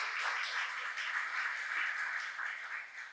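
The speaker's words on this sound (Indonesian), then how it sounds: "Beri tepuk tangan belum meriah buat Tuhan." Church congregation applauding together, a steady dense wash of many hands clapping at moderate distance for about three seconds, fading slightly at the end.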